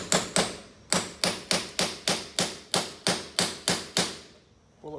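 Rivet gun setting rivets into an aluminium alloy panel on a Liteweight Panorama 506 caravan under restoration: about a dozen sharp, loud, close metallic bangs in a steady rhythm, each ringing out briefly before the next.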